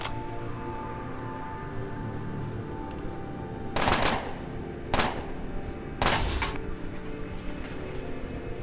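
Automatic gun turrets firing in the Underrail video game: three short, loud bursts of rapid fire stand out over a steady droning game ambience, with pauses between them.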